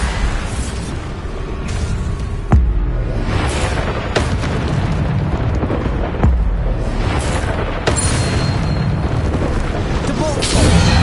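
Bombarda spell blasts in the Hogwarts Legacy video game on PS5: several heavy booms land amid dense, loud combat sound effects, with repeated impacts spaced a few seconds apart.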